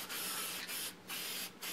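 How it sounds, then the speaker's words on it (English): Ink sprayed from a can onto a freehand-carved redwood stop sign, a loud, close, steady hiss broken by two short gaps. "So when you're spraying this ink, again, make sure that you shake it up pretty well before you start spraying."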